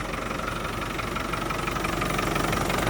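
A 1997 Land Rover Defender 90 SVU with the 300 TDI diesel engine idles steadily, a dense, even clatter and rumble that stays loud and close throughout, with no voices.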